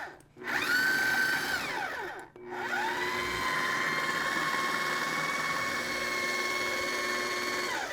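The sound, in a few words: blender blitzing shrimp into a paste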